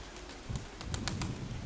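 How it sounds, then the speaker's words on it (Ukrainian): A pigeon coos softly in a low, rolling rhythm, with a few faint clicks and no talking. "Кур, кур, кур, кур куркає, да? голуб сів."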